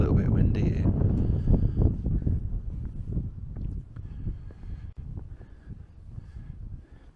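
Wind buffets built-in camera microphones during a night walk outdoors in Mold, North Wales, a steady low rumble that eases over time while someone talks throughout.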